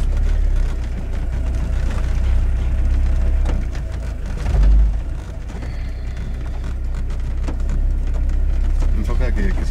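Car creeping forward in a very short low gear with neither brake nor accelerator pressed, a steady low engine drone with a brief louder swell midway, with a voice talking over it.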